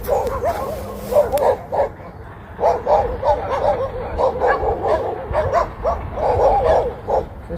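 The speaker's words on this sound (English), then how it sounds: "we have our guard dogs" Guard dogs bark close by in repeated bursts of sharp barks and yips, with an occasional whimper, keeping up a steady rhythm throughout.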